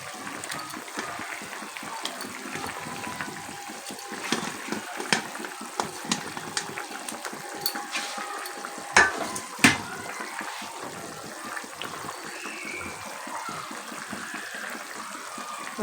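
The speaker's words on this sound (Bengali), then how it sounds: "তো বন্ধুরা দেখতেই পাচ্ছ আমাদের ঝোল কিন্তু একদম ফুটে গেছে" Rohu fish curry broth with drumstick and potato bubbles in a pot, a steady close simmering hiss with scattered small pops and faint clinks throughout, no talking.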